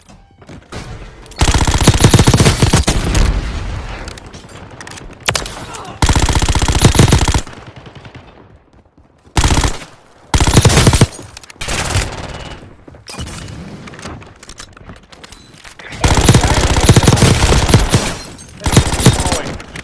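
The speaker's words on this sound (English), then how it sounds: "We got a decent machine gun at least." Machine gun fire in the video game Call of Duty Warzone Mobile comes as loud, sustained bursts of rapid shots, separated by short lulls and quieter gaps, with occasional heavy booms mixed in.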